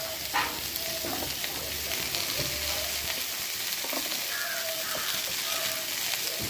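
Sliced okra sautés in a pan with turmeric, giving a soft, steady sizzle and faint stirring scrapes, quiet and close throughout.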